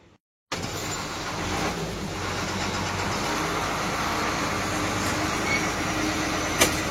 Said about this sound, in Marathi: now we are departing from Panaji bus stand Goa